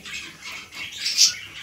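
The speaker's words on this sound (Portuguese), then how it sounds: "O passarinho hoje está competindo comigo." A small bird chirps and squawks close by in short bright bursts, loud and clear with no talking.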